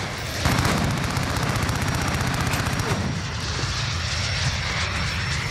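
Gunfire in a Call of Duty Modern Warfare multiplayer match, a dense continuous roar of shots and engine-like rumble filling the scene at steady loudness, with no clear talk over it.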